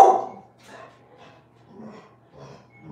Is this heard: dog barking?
yes